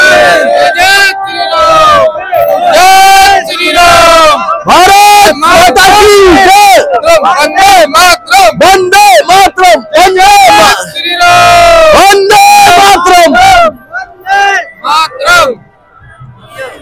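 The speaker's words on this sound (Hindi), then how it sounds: "कितनी सारी भीड़ है गणतंत्र दिवस को" A large crowd at a Republic Day parade in Lucknow chants loudly in unison, rhythmic shouted slogans that repeat and overlap, close and dense, then fade toward quieter babble at the end.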